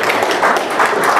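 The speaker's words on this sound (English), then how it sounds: "kind of golf applause there, kind of rolling applause" Soft, rolling golf-style applause from an audience at a Rotary club gathering, a continuous wash of many hands at an even, moderate level.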